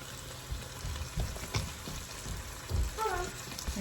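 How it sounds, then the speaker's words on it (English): Ginger and sesame oil fry in a pan with a soft, steady sizzle broken by a few close utensil taps, and a brief voice-like sound near the end. "So I'm gonna go ahead and add our ginger and our sesame oil in here."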